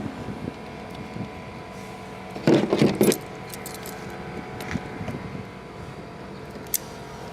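A metal wrench handled while servicing a Champion 3400 watt inverter generator, a brief cluster of bright metallic clinks and jangles in the middle, close by over quiet background.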